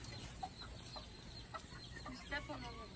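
A Polish chicken on a farm clucks in soft, short bursts scattered through a faint outdoor background with a high insect-like hiss.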